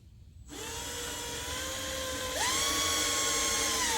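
Steady whine of a power drill with a cheap bit boring slowly into metal, starting suddenly and rising slightly in pitch partway through, loud and continuous with no talk.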